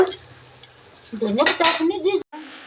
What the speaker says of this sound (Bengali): মাছ ভেজে রেখেছিলাম যে মাছগুলো দিয়ে দিচ্ছি এখন আমি ঢেকে দিয়ে দিব